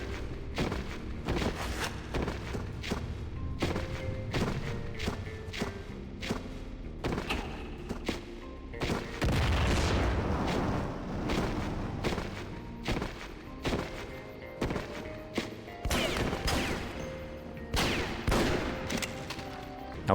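Revolver gunshots and combat sounds in the Half-Life mod TimeWarp, a run of sharp shots and thuds at a steady pace over game music and ambience.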